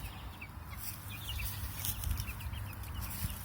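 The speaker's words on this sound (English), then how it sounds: "Chickens." Chickens cluck softly inside a chicken tractor on a farm, scattered close clucks over a low outdoor hum, no talking.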